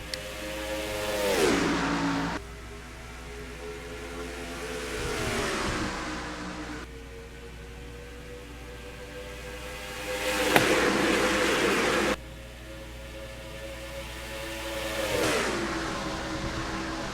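Stock cars in a racing game accelerate off the start at the 1.5-mile Atlanta oval, their engines swelling and fading in repeated loud revving passes.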